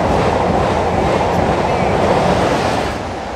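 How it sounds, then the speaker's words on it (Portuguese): Bullet train passing at speed, a loud, continuous roaring rush close by that holds steady and then drops off slightly near the end. "Era o trem-bala, já era."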